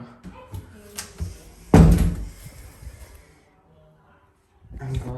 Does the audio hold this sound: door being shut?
yes